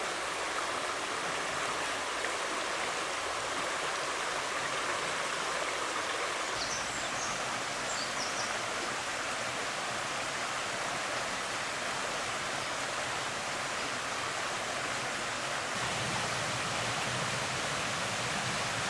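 Small waterfalls on a river beside a walking trail in a Calderdale valley give a steady, dense rush of falling water, close and continuous, with no voices.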